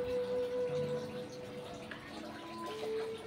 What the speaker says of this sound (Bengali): বালতিটা পাল্টিয়ে দিয়ে আসে, জল ভরে যাচ্ছে।